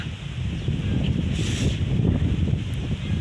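Cool wind gusting steadily across an outdoor garden with a bamboo clump, a broad continuous rush with a brief swell midway, no voices.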